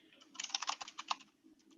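Quick, light typing on a light-up computer keyboard, a short close burst of soft clicking keystrokes in a quiet room.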